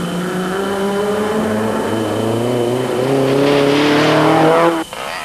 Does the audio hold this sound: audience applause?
no